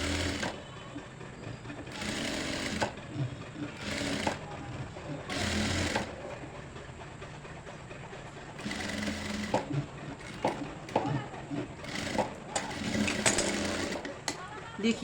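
An electric sewing machine stitching a sleeve onto a ladies' suit runs in repeated bursts of rapid mechanical whirring, stopping and starting throughout, with a voice speaking in the pauses.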